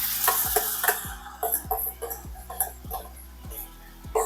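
Onions and curd fry in hot oil for mutton biryani, a steady close sizzle broken by regular scraping strokes of a spoon stirring the pan.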